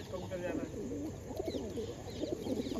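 A pigeon coos softly from within a bush, with low, repeated burbling calls under steady background noise and people talking nearby.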